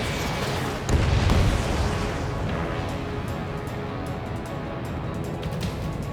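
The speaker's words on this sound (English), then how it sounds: "Damn, they're firing surface-to-air missiles at me." Surface-to-air missiles launch and burst with a heavy boom near the start in Ace Combat 7, followed by a sustained rumbling roar of jet and blast noise, no voices.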